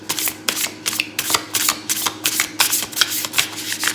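Tarot cards get a hard, rapid shuffle, the deck riffling in a run of crisp, close bursts that repeat steadily and fairly loudly, with no talking.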